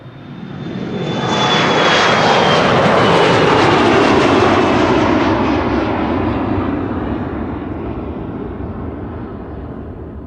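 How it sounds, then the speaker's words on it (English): A KLM Embraer 175 jet airliner at Amsterdam Schiphol Airport roars past, its engine noise rising over two seconds to a loud, broad sustained rush, then slowly fading with a thin whine fading out early. "KLM flight 1233 to Gothenburg, another Embraer, an Embraer 175."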